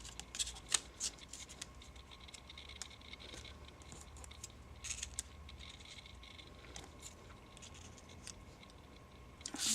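Scissors snipping paper for a handmade greeting card, a few sharp close cuts and soft paper rustles over a quiet room background.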